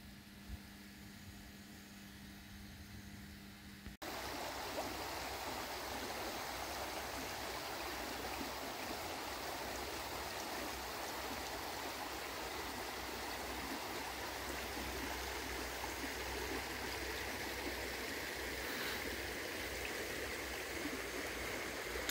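Water rushing through a mill race channel beside a river in the Šumava region, a constant broad hiss of flowing current that swells in after a quieter opening and holds steady to the end.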